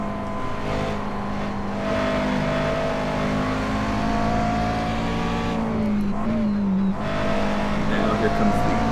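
DP prototype race cars sweep past in the iRacing sim at Watkins Glen during a Grand Am endurance race, a continuous loud engine drone with rising and falling revs and pitch dips as they go by.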